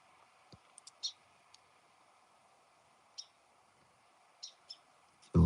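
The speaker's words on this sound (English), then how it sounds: "A little bird in the tree there." A small bird in a tree gives a few short, sparse chirps outdoors against a quiet, faintly hissing background, with a sharp thump right at the end.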